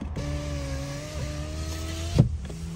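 Interior of a Hyundai Sonata sedan as it drives off, a low steady engine hum with a brief rising note and a soft thump near the end, close and moderate, no speech.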